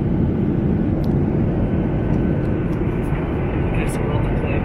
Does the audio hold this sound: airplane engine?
yes